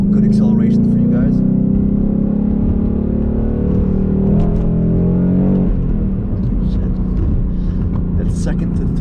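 Ford Mustang GT accelerating on a highway, a loud deep engine drone heard from inside the car, pitch rising through a gear pull, dipping briefly around a shift, then climbing again.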